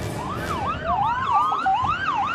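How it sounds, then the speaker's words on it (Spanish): Ambulance and police car sirens wail together outside a prison during a riot, overlapping rising and falling tones sweeping repeatedly at moderate distance, with traffic noise underneath. "El sonar de las ambulancias y los patrulleros alertaban de que algo sucedía dentro del Centro de Rehabilitación Social."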